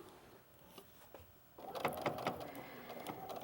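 A domestic sewing machine stitches a quarter-inch seam on a fabric casserole holder, its motor starting midway with a close, steady mechanical whir and rapid needle chatter after a quieter lead-in.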